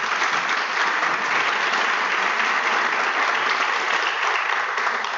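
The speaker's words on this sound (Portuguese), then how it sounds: "peço uma salva de palmas a todos vocês" Sustained audience applause at a university event, a dense, even wash of many hands clapping at steady loudness throughout, with no voices on top.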